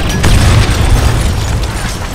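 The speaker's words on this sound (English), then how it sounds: "The guy is there, so you can throw a grenade." A grenade blast in the stealth shooter Splinter Cell: Blacklist, a loud, dense boom with a sharp onset that stays heavy and rumbling throughout, with no voices over it.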